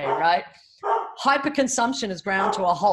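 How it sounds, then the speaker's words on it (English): A dog barks in the background at a home during an interview, its barks faint and mixed under steady, continuous speech. "That's my dog barking in the background."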